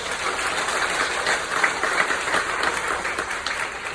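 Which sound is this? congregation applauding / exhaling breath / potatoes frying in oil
congregation applauding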